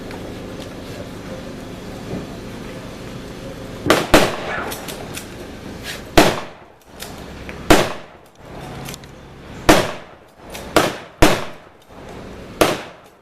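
Rifles fired by two soldiers in a weapons demonstration, about nine sharp, loud reports spaced irregularly over a low outdoor background, each shot followed by a brief echoing decay.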